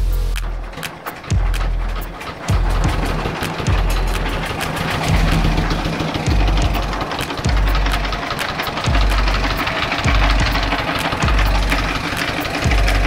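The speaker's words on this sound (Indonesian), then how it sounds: "Ini mesin sudah hidup" A rice mill's diesel engine runs steadily with rapid, regular low thumping and a rattly mechanical drone, loud and close throughout.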